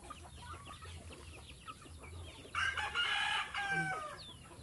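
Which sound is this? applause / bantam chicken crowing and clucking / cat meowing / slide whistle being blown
bantam chicken crowing and clucking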